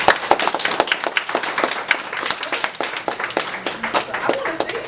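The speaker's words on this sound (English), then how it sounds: "Clap it up." Scattered, sharp clapping from a small group at a recap and closing session, with distinct individual claps in a fairly close, uneven rhythm, with some murmuring voices mixed in.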